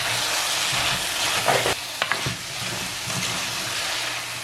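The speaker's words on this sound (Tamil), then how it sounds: "இன்னும் ஒரு 5லேருந்து 6 நிமிஷம் வதங்க விட போகிறேன்" Long beans (payathangai) sautéing in a pan for a Jaffna-style kadalai curry give a steady broadband sizzle, broken near the middle by a few brief clicks and scrapes of stirring, with a faint low hum underneath and no voices.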